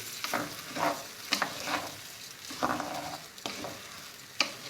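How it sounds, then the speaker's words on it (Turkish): Rice and kavurma are stirred in a pan with a spoon, making repeated scraping, rustling strokes over a light sizzle. Each stroke comes at a steady, unhurried pace, close and moderately loud. "Şimdi bunu ekledik pirinci karıştırıyoruz."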